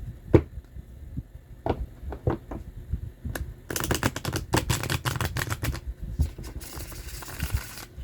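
A tarot card deck is shuffled by hand: scattered soft taps and clicks, then a dense burst of rapid riffling flutters, quiet and close, with no talking.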